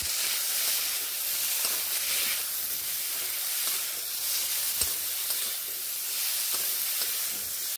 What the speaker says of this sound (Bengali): করলাগুলোকে ঠিক এইরকমভাবে আমি ভেজে নিলাম